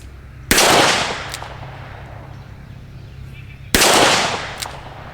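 Two sharp, loud gunshots from a Smith & Wesson 686+ revolver, fired a few seconds apart outdoors, each with a short decaying echo.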